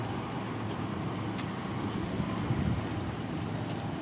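Steady wind rushing past the microphone while riding along a bumpy road, a continuous broadband roar with low rumble throughout and no speech.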